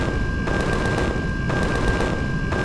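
Gunfire in the space survival video game Empyrion, with 15 millimeter and cannon weapons, loud continuous rapid automatic bursts over a dense rumbling background, with short breaks between volleys.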